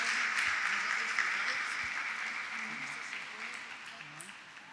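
A church congregation applauds in a broad, steady wash of clapping that fades gradually, with a faint voice murmuring underneath.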